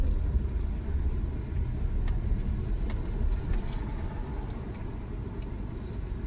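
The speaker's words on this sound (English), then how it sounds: "Alright, so we're going to drive back." A car drives along, heard from inside the cabin as a steady low engine and road rumble with faint rattles on top.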